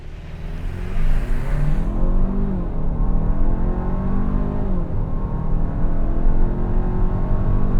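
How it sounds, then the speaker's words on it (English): A 2024 Hyundai Santa Fe Calligraphy with a dual-clutch gearbox accelerates hard in sport mode from a standstill toward 60 mph, its engine note rising steadily and loud from inside the cabin, with a brief gear shift dip midway. "Let's do a little 0 to 60 run here."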